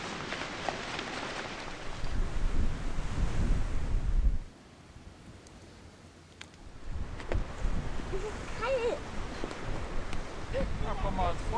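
Wind gusts loudly across an evening campsite in Armenia, a rough blustering roar that drops into a brief lull midway before rising again, with some voices nearby.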